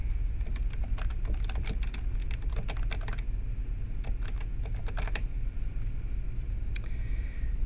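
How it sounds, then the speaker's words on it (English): Fingers typing a search term on a computer keyboard, a rapid run of crisp clicking keystrokes in bursts with short pauses, close and alone over a steady background hiss. "let's type conflict management."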